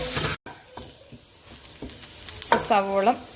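Onions sautéing with salt in a pan for a Kerala mushroom thoran, with a steady soft sizzle and occasional stirring scrapes; a short tonal sound rises near the end.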